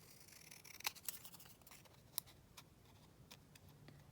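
Scissors trim a paper tag in a few quiet, crisp snips scattered among faint ticking handling noises, close up and soft.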